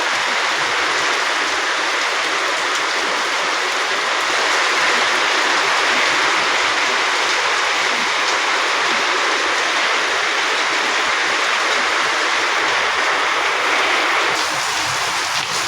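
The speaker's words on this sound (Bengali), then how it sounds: "অনেক জোরে জোরে বৃষ্টি হচ্ছে" Heavy rain pours down steadily in a broad, continuous hiss that stays loud and even from start to finish, with no talking over it.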